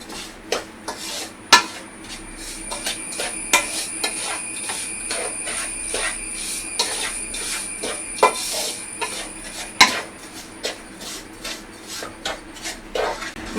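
Rava, sugar, cashews and raisins being stirred together in a pan, with a spoon scraping and clinking against the metal in irregular, fairly close strokes; a faint steady hum underneath and no talking.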